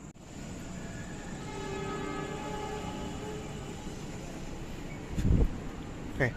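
An electric commuter train in Jakarta, its women-only car in view, rumbles past at a moderate distance with a steady hum and faint tonal whine, ending in a few sharp metallic clanks and thumps.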